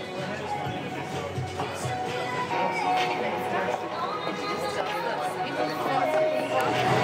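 Outdoor crowd chatter from a late-night Vodafone queue for the iPhone 4S launch in Wellington: a steady murmur of many voices at moderate distance, with a nearby voice talking over it.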